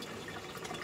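Water running steadily through a Clear Water CW-50 algae scrubber on an aquarium, a continuous faint splashing wash with no voices.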